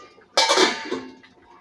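A lid set onto a cooking pot of taro and egg curry simmering in a home kitchen, one sharp metallic clatter followed by a short ringing decay, close and fairly loud.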